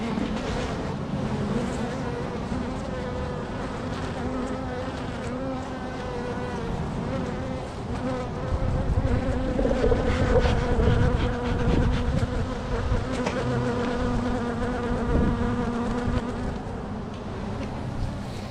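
Honey bees swarm around an open hive with a dense, continuous buzzing hum that holds steady throughout and swells slightly midway, close and loud.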